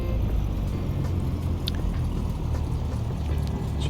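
A Cessna 172 engine idles in a flight simulator, a low steady rumbling drone that carries on evenly throughout without speech.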